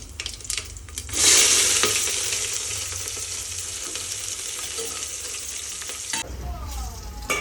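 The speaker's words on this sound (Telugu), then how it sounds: "స్పైసెస్ అవి వేగాయండి. వేగిన తర్వాత ఆనియన్స్ అండి." Onions hit hot oil with whole spices for chicken dum biryani, bursting into a loud sizzle that settles into a steady close fry. Light clatter comes before the onions go in, and a spoon scrapes near the end.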